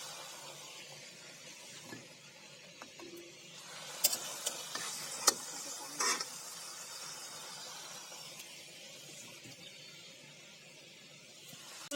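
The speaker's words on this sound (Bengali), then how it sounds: "সুন্দর করে এভাবে ভেজে নেব, বাদামি কালার পিঠ করেও ভেজে নেব" Singaras deep frying in hot oil give a steady, fairly quiet sizzle with scattered sharp pops and crackles. No one talks.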